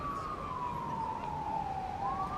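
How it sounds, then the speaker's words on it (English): A police car siren wails in a city street on a stormy autumn day in the Upper West Side, a steady, gently falling and rising tone heard from a distance over constant rumbling traffic noise. "And the police sirens are always a call."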